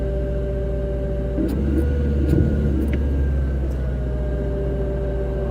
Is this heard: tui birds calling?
no